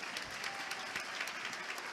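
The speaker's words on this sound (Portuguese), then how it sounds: "eu acho importantíssimo pedir uma salva de palmas para a Ana" Brief burst of steady audience applause at a talk during the 2023 Rio book fair, dense and continuous but fairly quiet, with no voices over it.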